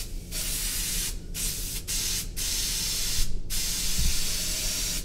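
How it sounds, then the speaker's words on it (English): Spray gun hissing as it lays clear glaze over decorated pottery, in several steady bursts broken by short pauses, loud and close with no talk. "So now I'll spray the clear."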